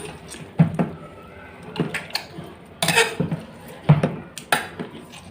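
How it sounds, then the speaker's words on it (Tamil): Roasted, peeled brinjal is pressed with a hand masher in a pot, making soft squelching thuds and light metallic knocks in irregular strokes, close and fairly clear. "இப்போ வந்து இந்த மாதிரி மசிக்கிறத வச்சு நல்லா மசிச்சுக்கலாம்"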